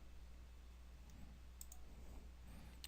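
A couple of soft, quick computer mouse clicks, close and quiet, over a low steady hum.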